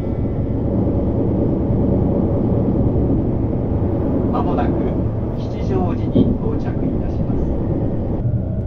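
Steady low rumble of a Narita Express train rolling into Mitaka Station on the Chuo Line, with muffled voices and announcements rising over the noise toward the end.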